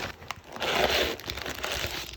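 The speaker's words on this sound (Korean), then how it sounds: "신문지로 이렇게 고정을 해주셨네요." Newspaper packing crumpled and rustled while unboxing a parcel of notebooks, a close, soft crinkling that rises and falls in irregular bursts with no talk.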